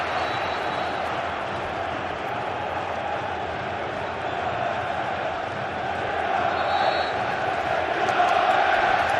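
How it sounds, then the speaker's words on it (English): Home Tottenham Hotspur football crowd jeering and whistling at Arsenal possession in a Premier League derby, a broad, continuous stadium roar that swells louder toward the end, with a brief high whistle. "And early Arsenal possession is disdainfully treated by a pumped-up Spurs crowd."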